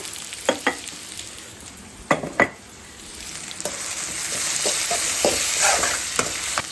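Onion and tomato sizzle as they fry in a pan; close scraping strokes and taps from stirring come early, then a louder, fuller sizzle builds, with no voices.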